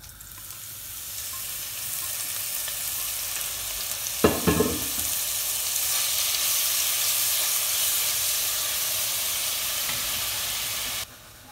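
Small squid (supions) hit hot olive oil in a pan, a steady sizzling hiss that flares briefly when they drop in, then settles into constant frying and stirring noise, with no talking.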